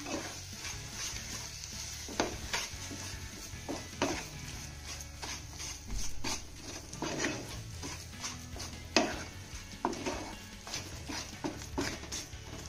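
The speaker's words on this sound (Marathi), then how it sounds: "त्यानंतर हा गुळ आपल्याला यामध्ये छान असा मिक्स करून घ्यायचा आहे" Jaggery being stirred into a mashed sweet potato mixture in a pan for a dal-free puran poli, with steady scraping and stirring strokes plus soft sizzle, close up and fairly quiet, no talk.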